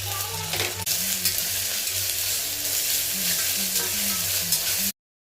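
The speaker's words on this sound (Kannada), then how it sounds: "ಇವಾಗ ಇದಕ್ಕೆ ಶುಂಠಿ ಬೆಳ್ಳುಳ್ಳಿ ಪೇಸ್ಟ್ ಹಾಕೋತೀನಿ" Ginger garlic paste sizzling with onions in a pan for vegetable biryani, a steady close frying hiss with occasional stirring scrapes, no voices.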